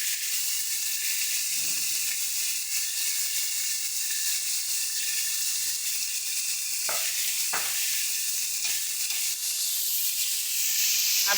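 Cucumber curry frying in a pan as turmeric powder is stirred in, giving a loud, continuous, close sizzle with a few soft scraping and stirring knocks partway through.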